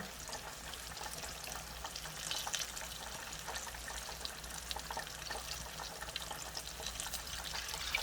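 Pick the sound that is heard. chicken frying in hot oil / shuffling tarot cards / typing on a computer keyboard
chicken frying in hot oil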